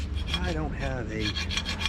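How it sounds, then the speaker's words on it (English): Hand file rasping over a Model A Ford emergency brake part to smooth off rough spots, a close, steady scraping in repeated back-and-forth strokes with no talk. "I'll just use maybe a quick file here just to kind of make sure we don't have any rough stuff on here"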